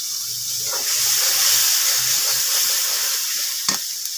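Hot oil with chili powder sizzles loudly as a splash of water hits the pan, a steady close hiss with faint stirring scrapes and a brief clatter near the end, no talking.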